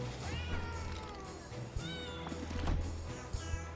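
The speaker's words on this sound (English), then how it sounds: "Meow, meow, meow, meow." Cat meowing repeatedly in a video game's potion-shop setting, a series of short rising and falling meows over steady background music and game sounds.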